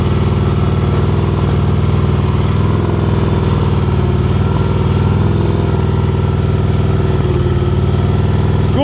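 Motorcycle engine running steadily at low speed during advanced slow-speed riding practice in North Carolina, a continuous mid-pitched drone with small throttle wobbles throughout, close and loud.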